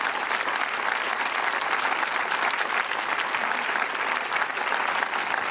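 Sustained applause from a festival audience in Arnhem Land thanking a Q&A panel at the Garma Festival, a dense, even roar of clapping that carries on steadily without a break.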